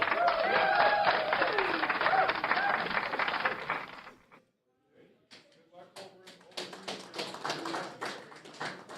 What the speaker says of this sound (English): We're going to give him a cheer here, too.